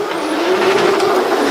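Drift race cars launch together from a green light at the start of a competition heat, engines revving hard in a loud, sustained roar with rising pitch and a faint tire-squeal edge throughout.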